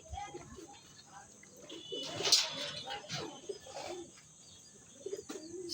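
Racing pigeons coo softly in the background during a pigeon race lap in San Jose del Monte, Bulacan, while someone talks over them, with a brief flutter of wings partway through.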